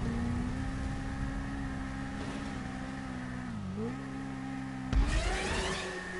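A motorcycle engine in a PS4 racing game holds a steady mid-pitched drone, dips briefly and climbs again, with a louder burst near the end.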